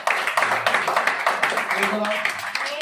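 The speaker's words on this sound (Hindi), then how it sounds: "ताली बजाओ, ताली में भी कंजूसी।" A church congregation clapping hands together in a steady, rhythmic beat, moderately loud, with people talking and murmuring over the claps throughout.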